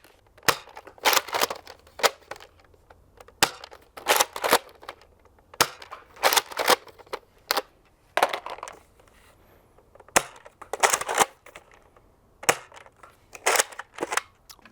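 Nerf Modulus Recon MKIII blaster firing foam darts with no barrel attached, a series of sharp, close snapping shots in quick pairs and singles, each followed by brief mechanical priming clatter, with no talking.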